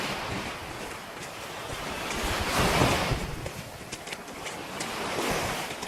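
Ocean waves wash steadily onto a beach in Batangas, Philippines, a broad continuous roar that swells and recedes, with wind buffeting the microphone.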